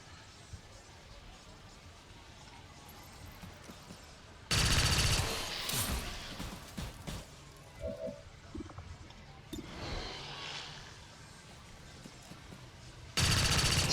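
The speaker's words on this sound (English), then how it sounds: "Let's fire our pistol" In XCOM 2: War of the Chosen, a pistol fires in loud, abrupt bursts, one around the middle and another at the end, separated by quieter in-game ambience with some scattered sounds. No one speaks.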